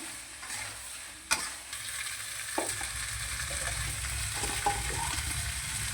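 Pointed gourd pieces go into hot oil with turmeric. A sharp clatter marks the pour, then a continuous frying sizzle follows with occasional stirring knocks, close and fairly loud, and no voices.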